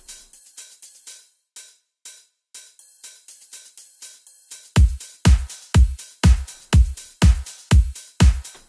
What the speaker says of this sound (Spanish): Y este que es un platillo ride.